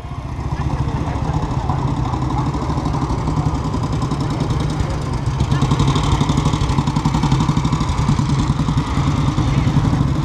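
A couple of motorbikes pass nearby at a 1940s-themed weekend event, their engines chugging with a steady clattering rumble that swells slightly toward the end, while people talk over them.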